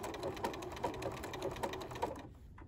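A sewing machine stitches a quilt panel in a steady, fast mechanical whir, its needle strokes repeating in a close rhythm before it stops near the end.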